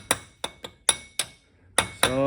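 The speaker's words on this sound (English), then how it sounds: "I'm gonna take a punch and I'm just gonna hit the axle to break it free" A hammer drives a punch against the axle of a 2010 GMC Yukon during a wheel bearing job: about eight sharp, ringing metallic strikes at uneven intervals, close and loud, the last few coming quicker.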